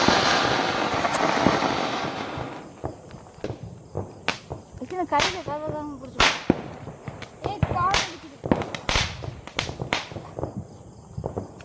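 Diwali firecrackers go off in a series of sharp, loud cracks and pops spread through the scene, some close and some further off, with people chatting and calling out between the bursts.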